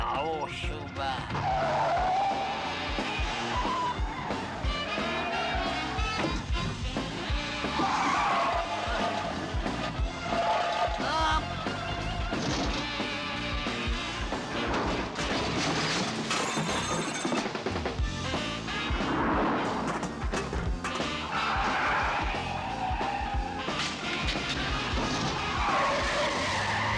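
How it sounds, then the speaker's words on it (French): Screeching tires and roaring engines fill a dense, constant car chase sequence in a 1991 film, with crashes and breaking glass mixed into music, and voices speaking over the action. "Poursuite de 2 véhicules sur Ingham, direction ouest."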